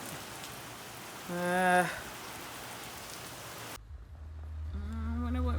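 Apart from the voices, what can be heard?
heavy rain falling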